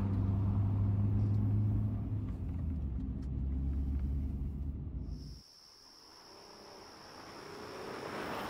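A car driving along in the video game Nocturnals, a steady low engine rumble and road noise that cuts out abruptly midway, leaving quiet ambience with a thin high insect-like tone.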